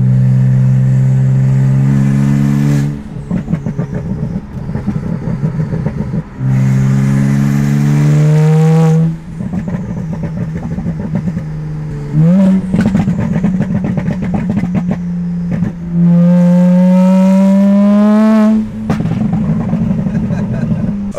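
Loud BMW 335i running with no exhaust, revving hard in repeated rising bursts with brief drops between, the engine note climbing and falling close up and filling the whole stretch.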